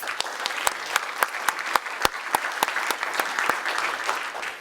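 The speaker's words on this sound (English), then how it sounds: "A round of applause to them, please." Sustained applause from a large audience at a university president's address, dense clapping throughout with a few sharper claps standing out, loud and steady with no talking over it.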